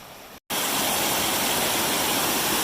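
A creek along the Appalachian Trail rushes in a loud, steady broadband wash after a brief dropout at the start, with no voices.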